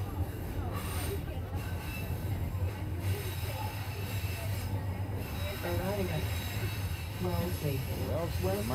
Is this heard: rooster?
no